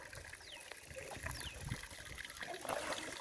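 Water from a tap trickling and splashing steadily, a continuous close wash of liquid with a slight rise toward the end, with no talking.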